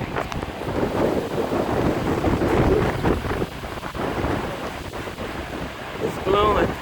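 Strong wind during a fall windstorm blows outdoors in loud, gusting rushes buffeting the microphone, with no pause across the whole stretch.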